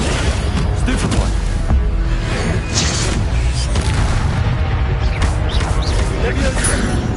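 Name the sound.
Stupefy spell cast in a video game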